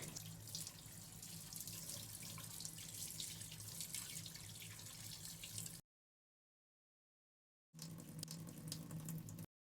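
A tap runs steadily as dried fish is washed in a kitchen sink, a close, even splashing rush that cuts out for about two seconds and then resumes, with no talk.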